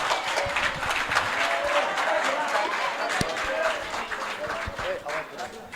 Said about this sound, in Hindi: भैरवानंद जी के लिए ताली बजाएं।